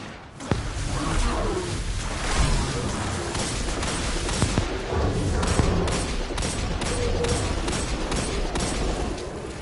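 Dense, continuous gunfire from a hand cannon in the shooter game Destiny 2, rapid overlapping shots and combat noise throughout, no clear speech.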